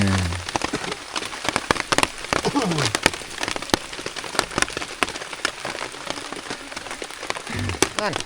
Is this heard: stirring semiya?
no